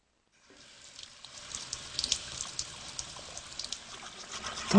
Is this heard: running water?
yes